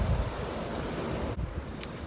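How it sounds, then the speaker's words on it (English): Strong wind gusting outdoors around a Ford Mondeo Mk3 during rear suspension strut work, a steady roaring rush buffeting the microphone with a short lull midway. "It's windy today."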